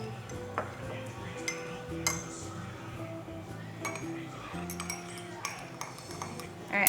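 Capped glass jars of honey elderberry syrup being handled and mixed, with scattered clinks and light glassy taps over a soft room background, no talk.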